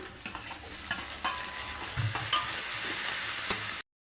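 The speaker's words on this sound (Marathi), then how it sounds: "आता कांदा आपला गुलाबी होत आहे, त्यात आपण टोमॅटो टाकून घेऊया." Tomatoes drop into onions frying for chicken biryani, bringing a close, continuous sizzle that swells slightly, with scattered spatula clicks and stirs before it cuts off abruptly; no talking.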